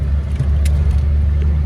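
A Jeep ZJ pulling away on a test drive after light fabrication work, a low steady engine rumble heard from inside with faint small rattles.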